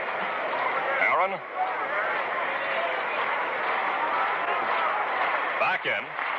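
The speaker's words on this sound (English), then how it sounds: "You can hear the crowd in the background." Ballpark crowd at a 1958 World Series game on an old radio broadcast, a steady distant murmur of the stands running under continuous play-by-play commentary, with brief swells of noise.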